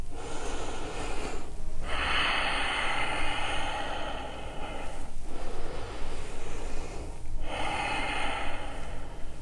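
During a mobility stretch, a person breathes deeply and slowly, with three long airy inhales and exhales, close and clear with no talking.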